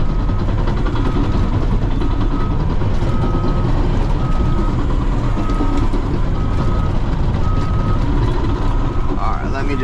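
A bulldozer works loudly with a steady heavy diesel roar, and a repeating reversing beep pulses over it through most of the stretch, close and constant.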